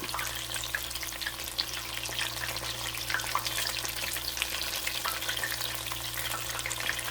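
Baby bella mushrooms deep frying in hot oil give a steady, dense bubbling crackle with scattered pops, close and continuous throughout with no voices.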